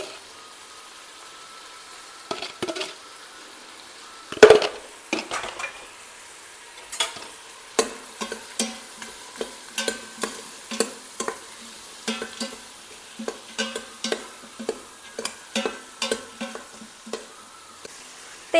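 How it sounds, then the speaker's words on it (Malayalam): Spoon stirring chili powder, coriander powder, garam masala and salt in a pan, with rhythmic scraping strokes and a light sizzle, heard close up with no talking. "1 ടീസ്പൂൺ മുളക് പൊടി, അതേ അളവിൽ മല്ലിപ്പൊടി, കുറച്ച് ഗരം മസാല, ആവശ്യത്തിന് ഉപ്പും ഇട്ട് ഇളക്കുക"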